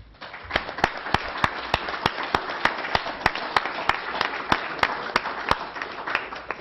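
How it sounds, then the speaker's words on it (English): A round of applause in a council chamber at a full council meeting, with steady clapping from a modest crowd and regular sharp, evenly spaced claps standing out over the rest throughout. "can we just give them a round of applause?"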